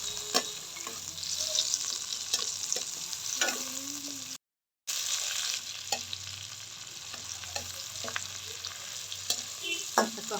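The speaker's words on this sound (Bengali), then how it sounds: "হালকা করে পেঁয়াজটা ভেজে নিব" Onions frying lightly in a pan for a prawn pulao, a soft continuous sizzle punctuated by repeated scraping stirs and clicks of a spatula, close and steady, with a brief silent gap partway through.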